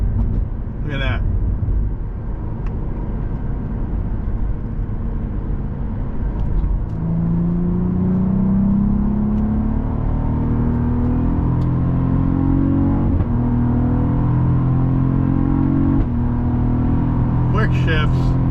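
A Cadillac CT4-V Blackwing accelerating hard, its engine note climbing through the gears with quick shifts, loud and close, with a few faint clicks and a brief voice in the background.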